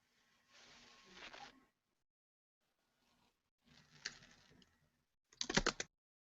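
Three separate bursts of rapid clicking on a computer keyboard, with short pauses between them and the last burst sharpest and loudest, recorded close up during an online faculty test session with no talking.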